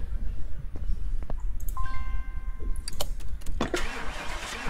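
A car engine in Car Mechanic Simulator 2018 cranks and starts, with a few sharp mechanical clicks and a brief tonal whine over a steady low rumble, close and moderately loud, with no talking.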